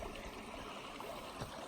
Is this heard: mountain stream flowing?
yes